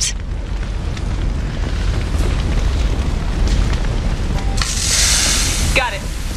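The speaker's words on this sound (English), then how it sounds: "These damaged pipes are on fire." Damaged pipes burning in the Mass Effect 2 video game: a steady, loud roaring rumble of fire with crackling, and a bright hissing burst near the end.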